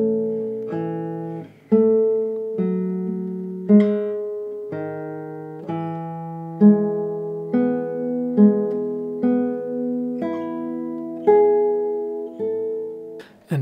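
A classical guitar slowly plays an accompaniment: clear plucked notes ring out alone, each new chord struck in an even, unhurried rhythm.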